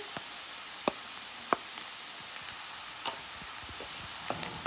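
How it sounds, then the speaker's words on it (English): Onions and garlic sizzling in a pan, a steady moderate frying hiss with a few sharp utensil taps and clicks scattered over it. "So now that our onions been cooking up, we're gonna add our garlic in here."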